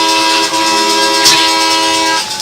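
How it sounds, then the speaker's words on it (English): Train horns blaring at a high school varsity football game, a loud sustained chord of steady tones held for a couple of seconds with crowd noise underneath. "Let the train horns roll."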